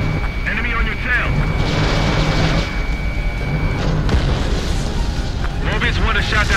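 An enemy aircraft is shot down and explodes in the Ace Combat 7 flight combat game, with a heavy rumbling blast and jet roar. Radio voices talk over it, and a tone runs through much of it.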